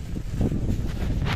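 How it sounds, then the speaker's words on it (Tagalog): Strong wind at a fishing spot buffets the microphone in a loud, continuous rushing roar with gusty swells and no voices. "Lakas ang hangin, kumukontra"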